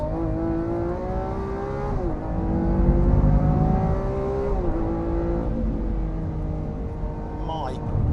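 A 2017 Lamborghini Aventador S engine revs hard and loud through its lighter exhaust system, rising and dropping in pitch with throaty exhaust and a deep rumble underneath.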